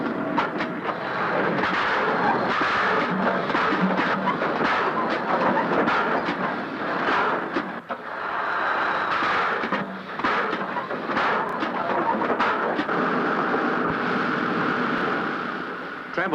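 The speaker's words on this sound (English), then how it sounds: "Wagons roll down the hump and are automatically sent into various sorting sidings." Freight wagons roll down a railway hump yard and are sent into sorting sidings in Australia, a dense continuous rumble with repeated heavy clanks and bangs of couplings throughout, loud and close, with no voices.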